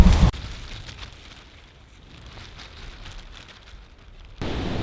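Steady rain during a storm at a campsite, a dense hiss of drops at moderate level, with louder rushing bursts at the start and end.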